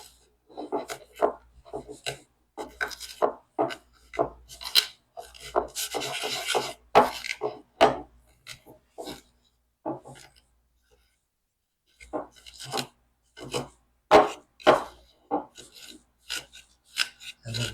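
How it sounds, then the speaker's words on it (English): A fork crushes garlic by hand for a restaurant-style Caesar salad, giving short scraping, rasping strokes in an irregular rhythm. The strokes stop briefly near the middle, then resume, close and fairly loud. "we're going to crush the garlic by hand"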